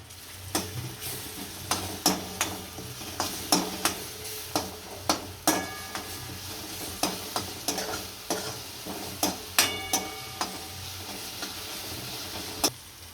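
Ginger-chili-garlic paste stirred into frying onions in a pan, with repeated scraping spoon strokes and clinks over a low, steady sizzle, close and rhythmic.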